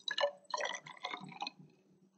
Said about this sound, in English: pour it into the first boiling tube